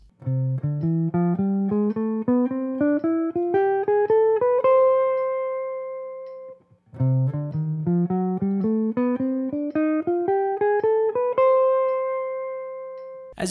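Two ascending eight-note scales, the major and minor diminished scales, played on a keyboard, each climbing steadily and ending on a held note, with a brief pause between them.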